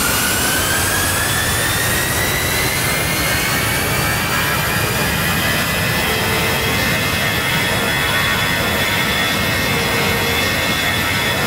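An A-10C Thunderbolt II jet engine in Microsoft Flight Simulator roars steadily and loudly, a broad sustained rumble with a high whining edge running unbroken throughout.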